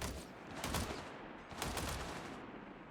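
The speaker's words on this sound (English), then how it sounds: "We've got 2 rifleman squads here shooting at them" Two rifleman squads fire on descending paratroopers in Company of Heroes 3, a sustained fusillade of overlapping rifle and machine-gun shots with two heavier surges, loud and continuous without pause.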